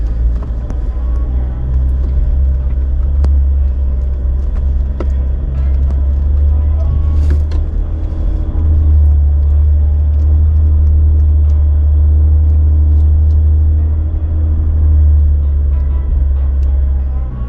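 A deep, steady engine rumble from an off-road vehicle crawling up a steep slickrock fin in Moab, continuous and close throughout with little change in pitch.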